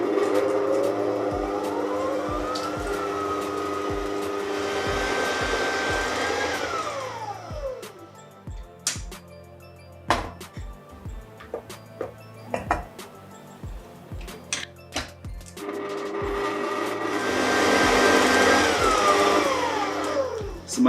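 A stand mixer with a paddle attachment beats eggs into cooled choux pastry dough, whirring loudly and steadily, then stopping for a stretch of clinks and taps before the motor whirs up again near the end.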